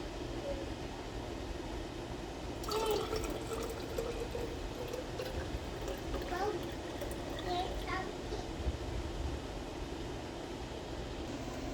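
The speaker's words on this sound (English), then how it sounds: "I'm gonna pour it out and try it." Iced coffee pours from a Hyper Chiller container in a soft, steady liquid trickle lasting several seconds over a quiet room background, with faint voices nearby.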